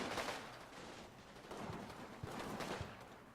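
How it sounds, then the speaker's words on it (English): Machine gun fire from an MG44 squad weapon in the Combat Mission: Battle for Normandy wargame, a sustained rattling burst with repeated sharp shots running through the whole stretch at steady loudness, no talking. "I think there's a machine gun in one of these squads."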